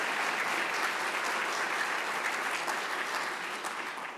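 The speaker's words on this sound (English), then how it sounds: "Join me in giving a round of applause to the Uyghur activists." A hall audience gives sustained, steady applause for Uyghur activists, a dense wash of clapping that tapers only slightly at the end.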